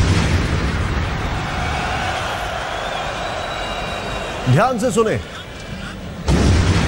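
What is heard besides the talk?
explosion sound during football match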